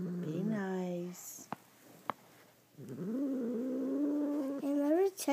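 An angry cat growls and yowls in long, low, wavering moans that rise and fall, with a couple of sharp clicks between the drawn-out cries, close and fairly loud.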